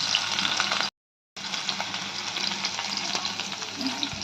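Paneer frying in a pan of hot oil, a steady, fairly quiet sizzle that runs continuously, cut by one brief silent gap, with faint scraping and stirring underneath.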